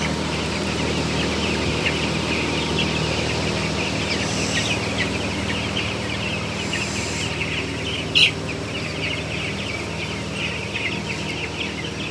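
Broiler chickens inside a closed-house poultry barn holding roughly 8,000 birds, a dense continuous chorus of chirping and clucking over the steady hum of a ventilation blower, with one brief sharper call.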